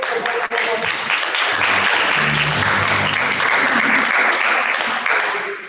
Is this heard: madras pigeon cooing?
no